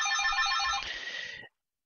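Telephone ringtone trilling loud and close for about a second and a half, a bright warbling electronic ring that cuts off abruptly, with no other sounds.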